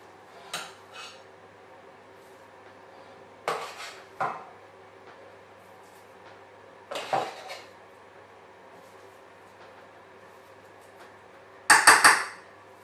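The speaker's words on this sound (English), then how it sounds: "we're going to spoon in our coconut mixture over the top of our base" Spoon scraping and tapping against a bowl while vegan coconut cheesecake mixture is spooned over the base, in a few short clattering bursts with quiet gaps between, the last burst loudest.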